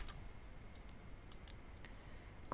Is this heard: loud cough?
no